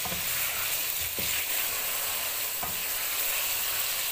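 Sliced red chillies frying with chicken in a kadai give a steady, close sizzle, punctuated by a few sharp spoon scrapes against the pan, with no speech.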